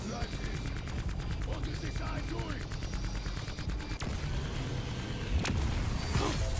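Rapid automatic gunfire from a Call of Duty Zombies video game fight against a boss creature, steady bursts of shots running throughout with a couple of sharper booms late on, under faint voices.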